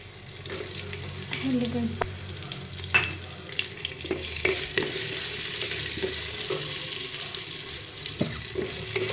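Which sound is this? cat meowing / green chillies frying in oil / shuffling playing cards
green chillies frying in oil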